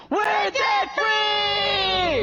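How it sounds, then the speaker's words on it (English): A small group of people lets out a loud, joyful debt-free scream: a short burst, a brief break, then one long sustained shout of several voices together, close and raw. "Let's hear a debt-free scream."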